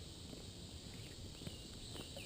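Cicadas in Knoch Knolls Park, Naperville, in July, a faint steady high-pitched buzzing drone from the trees, continuous and distant, with a few soft rustles underneath.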